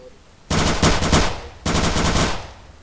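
Two bursts of video game gunfire, an overpowered shotgun-style weapon firing in rapid blasts about a second apart, loud and close, with a brief pause between them.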